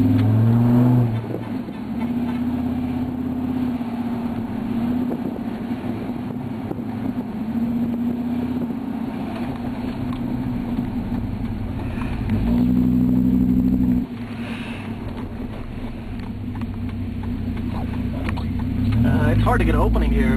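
A Viper truck cruises through congested city streets in Berkeley. Its engine gives a continuous low drone that shifts pitch slightly as it eases along, with a short change in tone partway through and a voice talking over it.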